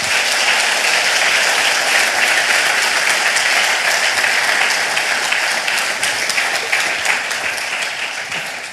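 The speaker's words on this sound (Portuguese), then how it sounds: "Aplauda o seu Deus bem forte" A church congregation applauds loudly and continuously, a dense sustained roar of many hands clapping that slowly tapers off near the end.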